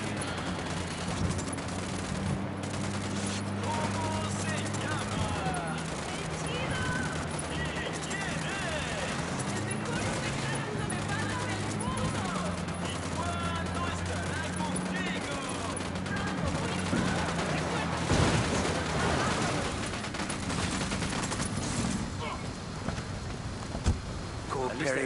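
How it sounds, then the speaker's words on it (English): Gunfire in Ghost Recon Wildlands rattles in repeated automatic bursts under steady in-game noise and background music, with players talking over it throughout. "Opening fire at these fuckers."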